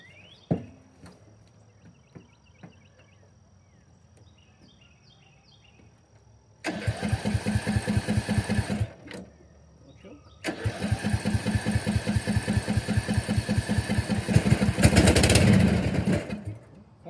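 An old riding lawn mower, run for the first time after five years and just given a new coil, is cranked by its starter through two rhythmic bursts. The engine then catches and runs loud and close, with a few clicks and shuffles before it.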